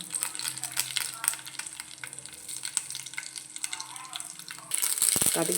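Mustard seeds crackle and splutter in a little hot oil in a kadai, a steady close sizzle with scattered sharp pops that grow louder and denser toward the end.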